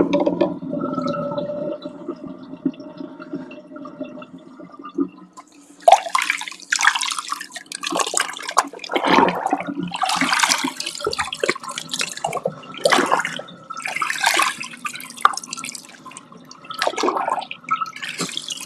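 Water drains from a basin after washing needlework, first as a low steady gurgle and then as louder splashing and trickling bursts, close by with no talk.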